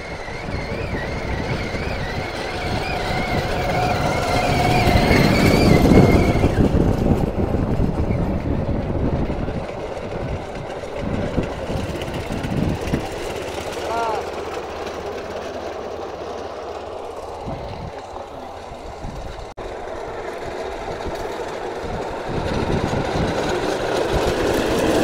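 Railway vehicle on the tracks during a CRS safety inspection test: a loud engine rumble fills the whole stretch, swelling and easing, with a brief rising whine partway through and no talk.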